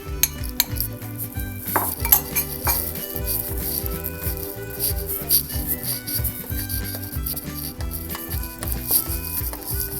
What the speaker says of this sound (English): which I am going to put it into this batter. And again going to give a good stir.